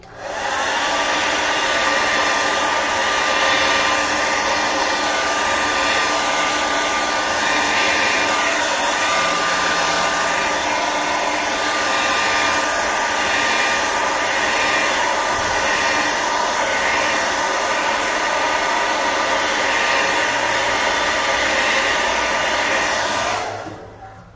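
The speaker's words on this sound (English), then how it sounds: "I'm going to grab my hairdryer again and give this all a quick dry." A hair dryer blows loudly and continuously at close range, a steady whirring rush that runs for over twenty seconds before cutting off.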